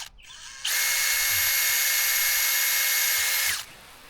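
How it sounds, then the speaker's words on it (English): A small drill bit bores a hole into a pipe at a pump house, whirring as a loud, steady high-pitched tone for about three seconds, then cutting off abruptly with a quiet tail. "I decided to just use a little drill bit and drill a hole"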